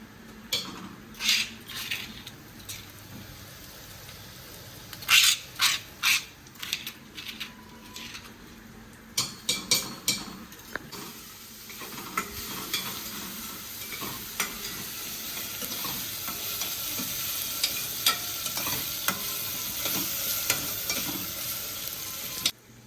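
Green chilli, garlic and cumin paste frying in a pan, with steady sizzling that builds over time and sharp scraping clicks of a spoon stirring against the pan.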